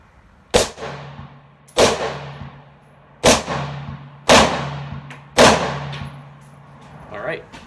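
Five loud, sharp cracks from a Ruger Mini 14 rifle firing 5.56 NATO and .223 Rem at an outdoor range, spaced about a second or more apart, each with a short ringing echo trailing off.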